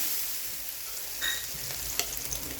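Ragi dosa batter spread on a hot pan for a crispy dosa, giving a steady faint sizzle with a few soft scraping touches, no voices.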